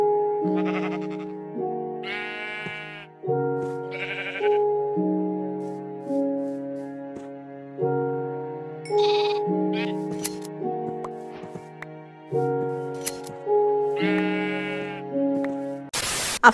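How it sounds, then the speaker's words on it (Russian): Sheep bleat in the video game Minecraft, a repeating series of short, wavering bleats set over a steady looping game music tone, about a dozen calls at a regular rhythm, loud and clear. "Овца в Майнкрафте."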